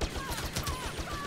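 Rapid bursts of turret fire in Star Wars Battlefront, a steady stream of repeated blaster-like shots with a faint high whine, heard under background game noise at moderate distance.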